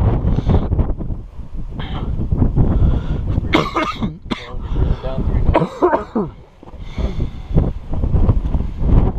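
Several harsh, close coughs and throat clearing come in bursts on a cold hike up Tumbledown Mountain, mixed with speech and wind buffeting the microphone.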